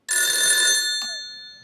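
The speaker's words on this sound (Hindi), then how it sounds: "फोन उठा, एक सेकंड में अपने दोस्त को फोन लगाता हूँ।" An old-style telephone bell rings once in a bright, metallic burst that cuts off sharply and leaves a short decaying tail, loud and close with no talk over it.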